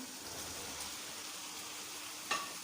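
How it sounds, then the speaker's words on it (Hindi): Tinda simmering and frying in gravy in a pan make a soft, continuous sizzle with light bubbling. One sharp metallic clink near the end stands out, and the whole sound stays fairly quiet. "डाल के इसको 1 मिनट अच्छे से भूनते हैं"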